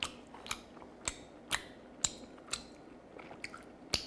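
Someone chews Korean hand-torn noodles (sujebi), a quiet close-up series of soft, moist bites and squishes repeating about every half second with no talk.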